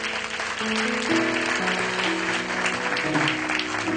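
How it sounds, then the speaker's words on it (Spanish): Church congregation applauding, a dense steady wash of clapping that runs the whole time, mixed with sustained keyboard or organ chords playing underneath. "Aplaude usted al Rey de Reyes."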